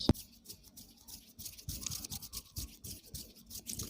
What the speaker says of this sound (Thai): ลองใช้นิ้วชี้นะสองข้างรัวๆไปที่ตัวไม้ของเรานะ